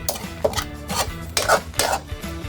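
A metal utensil stirs chicken adobo in a cooking pot, giving a series of short scraping and clinking strokes against the pot in an uneven rhythm, close and moderately loud with no talking.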